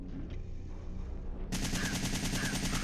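Machine gun fire in Resident Evil 3: Nemesis bursts in suddenly halfway through as a loud, rapid, sustained stream of shots after a quieter stretch of low game ambience.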